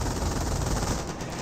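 Sustained machine gun fire from an infantry half-track in Company of Heroes, a dense, loud, continuous rattle of rapid shots filling the whole moment with battle noise underneath.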